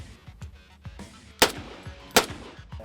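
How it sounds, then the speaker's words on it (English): A Mark 14 EBR rifle with an open muzzle fires two loud, sharp reports about a second apart, with a lower rhythmic thumping and clatter in the background. "This is a Mark 14 EBR with open muzzle."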